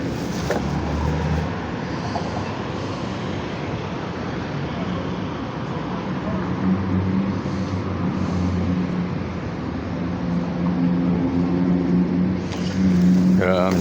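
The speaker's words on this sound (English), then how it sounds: "Ah, there's the train." A Phoenix Valley Metro light rail train arriving slowly around a corner from Washington Street, a low steady rumble amid street traffic noise, with a person talking over it.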